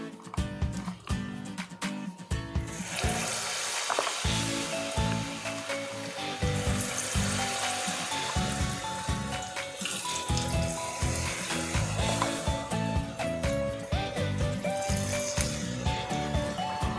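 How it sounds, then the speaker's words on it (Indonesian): Vegetable fritters (bakwan) frying in hot oil, a steady dense sizzle and bubbling that continues throughout at a moderate level, with no talking. "Kita mulai goreng."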